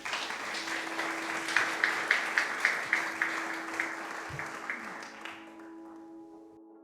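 Audience applause greets Gegye Yongey Rinpoche at a mindfulness meditation gathering, a steady wash of many hands clapping with a few sharper claps standing out, then tapering off over the last couple of seconds.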